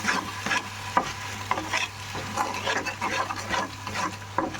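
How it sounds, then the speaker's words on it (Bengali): Salt and turmeric are stirred into hot oil in a pan, a spoon scraping in repeated strokes over a soft steady sizzle, close and moderately loud. "তেলের মধ্যে নুন হলুদ দিয়ে দিব, দিয়ে ভালো মতো নাড়ব।"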